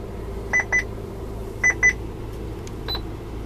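A built-in Passport radar detector in a 2009 Bentley Continental GT beeps through the car speakers, two quick pairs of clear electronic tones followed by a fainter single chirp over a low cabin hum.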